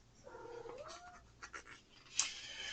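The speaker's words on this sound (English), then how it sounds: "And here's my cat." A pet cat gives a drawn-out meow that slides downward, followed by a few short soft calls and a brief sharper sound near the end, close and fairly quiet.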